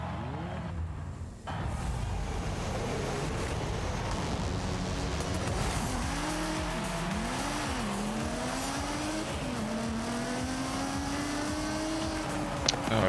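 A car engine roars and shifts pitch through gear changes in Forza Horizon, revving continuously with no talk.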